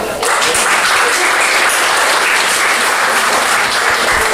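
Loud, dense applause from an audience at a spiritist meeting, a continuous wash of many hands clapping that holds steady throughout.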